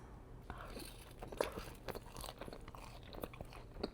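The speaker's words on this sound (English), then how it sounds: "Wingstop mukbang, Big Daddy Ranch, hot honey, some fries" Close, faint crunching and chewing of Wingstop chicken wings with Big Daddy Ranch and hot honey plus fries, soft bites in an irregular rhythm with no talk.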